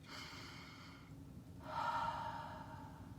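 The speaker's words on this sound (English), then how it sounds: "Breathe." Deep, slow breathing at close range, an inhale followed by a longer, louder exhale, with no talking.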